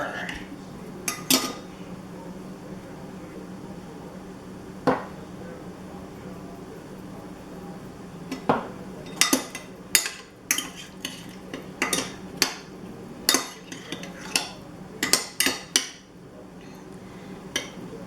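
Food stirred in a kitchen pot with a utensil, heard as scattered clinks and scrapes against metal that grow busier toward the end, with light kitchen background noise.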